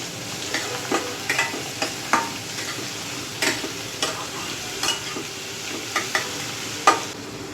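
Pointed gourd (potol) frying in a pan with its seeds, a steady sizzle punctuated by repeated sharp scraping and clinking stirs at a loose rhythm.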